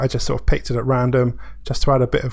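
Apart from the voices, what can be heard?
No everyday noise stands out behind the speech.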